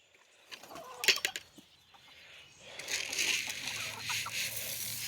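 A rooster and hens on a farm give a quick burst of loud clucks and squawks early on, then a busier, continuous chatter of clucking from the flock fills the rest.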